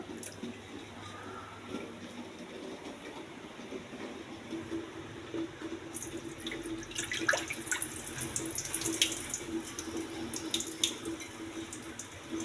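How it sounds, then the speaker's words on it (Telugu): Water runs from a tap into a vessel while red rice is swished and rinsed, with splashing and clinking growing busier partway through. "రెడ్ రైస్ శుభ్రంగా ఒకసారి కడగాలండి, ఎక్కువసేపు కడగకూడదు."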